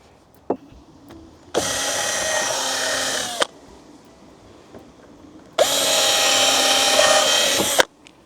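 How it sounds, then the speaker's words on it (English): A power drill bores holes into decking wood for a garden planter in two sustained whirring bursts, each roughly two seconds long, loud and close, with quiet pauses and small clicks between them. "Drill the holes in, put it up to it, drill some more holes in, screw it in."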